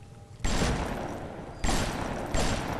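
Gunfire in the video game Bioshock: three loud, sharp onsets, each followed by a sustained crackling blast that rings out until the next, close and dense, with no talking.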